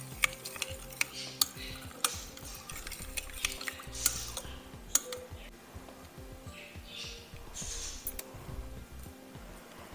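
Ingredients, including sugar, are stirred in a bowl with a spoon, giving quiet, irregular clinks and taps of the spoon against the bowl in a close kitchen setting, with a faint room hum underneath.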